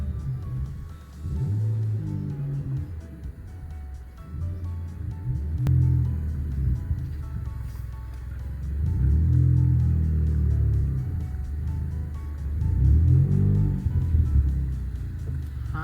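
A car engine idles low and steady, with the rumble swelling gently a few times as the vehicle creeps slowly backward into a driveway, close by.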